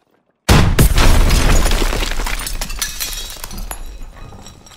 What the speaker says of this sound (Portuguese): Cuidado com a explosão.